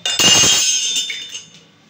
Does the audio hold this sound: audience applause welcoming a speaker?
no